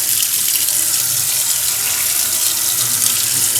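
A newly installed kitchen faucet runs water into the sink in a steady, loud, even hiss that lasts the whole time, with no voices.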